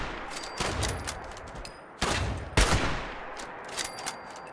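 Gunfire in the video game Fallout 76: several bursts of rapid shots cut in sharply with pauses between, the loudest single crack near the middle, fairly close and without talk.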